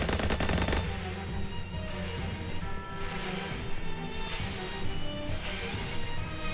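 Gunfire in the video game Shadows Over Loathing: a loud opening burst of rapid shots, then booming reverberant game sound and music that carries on steadily, with no talking.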